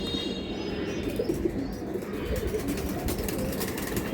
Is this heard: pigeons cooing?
yes